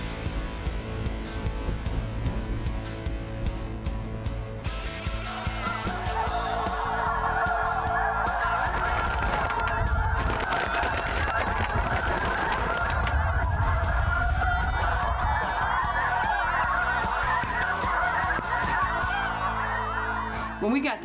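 A large flock of snow geese honks in a dense, continuous clamor of overlapping calls that grows fuller and louder partway through.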